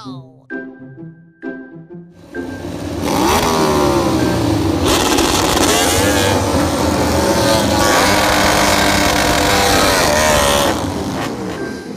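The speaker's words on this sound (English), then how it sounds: "Sport bike." A sport bike engine starts after two short voiced bursts, then revs up into a loud, sustained, buzzing roar close by, with rising and falling pitch sweeps as the throttle opens and eases.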